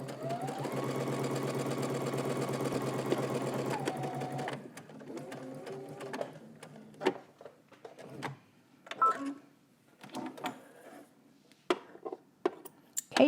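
A sewing machine runs a short burst of back stitching on a garment seam, a close mechanical whir lasting a few seconds that slows and stops, followed by quiet handling and clicks.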